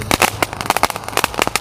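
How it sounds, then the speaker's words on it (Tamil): A popcorn-type firecracker, bought among Sivakasi crackers, crackles after being lit, giving a rapid irregular string of sharp pops and small bursts, close and loud, with no talk over it. "நம்ம சாப்பிட்ற பாப்கார்ன் இல்லை, இது வெடிக்கிற பாப்கார்ன்."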